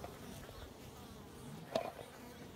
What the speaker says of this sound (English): Now there's bees coming and going down here.